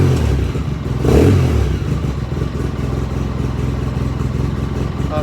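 A 2007 Polaris RZR engine runs close by with a rough, clattering idle, revving up once briefly before settling back to idle.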